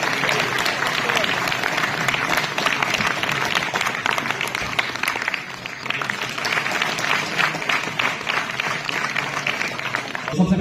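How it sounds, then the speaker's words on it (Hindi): Loud, sustained audience applause fills a cultural closing ceremony for Audit Diwas 2025, dense clapping running throughout with a steady crowd roar and an announcer's voice over it. "जोरदार तालियां, जोरदार तालियां।"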